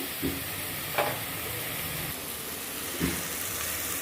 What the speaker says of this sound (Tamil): வெங்காயம் தக்காளி எல்லாமே நல்லா வதங்கிட்டு